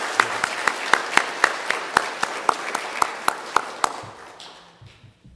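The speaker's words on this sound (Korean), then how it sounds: "다시 한번 이 두 분을 위해서 영광의 박수로" A church congregation at a Sunday worship service claps in a steady, even rhythm, about fifteen crisp claps in a row, then the clapping trails off into quiet.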